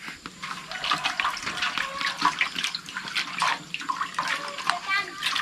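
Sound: washing food under running water

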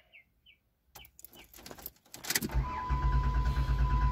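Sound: car engine cranking during relative compression test

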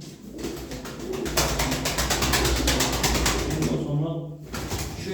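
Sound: tumbler pigeons cooing

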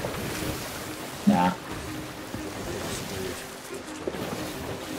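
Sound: ocean waves around a ship in the video game Sea of Thieves

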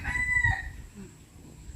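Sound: rooster crowing

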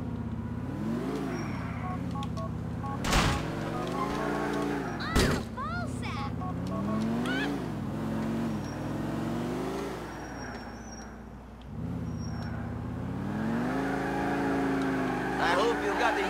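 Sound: Oracle car driving and revving in video game GTA IV

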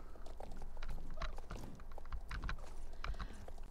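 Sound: horse hooves clip-clopping in video game Star Stable Online

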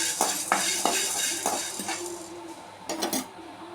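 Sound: roasting black pepper stirred in a pan

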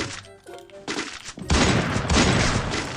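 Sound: gunfire in the video game Free Fire

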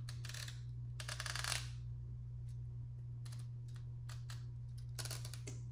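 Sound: Canon AE-1 camera ring clicking

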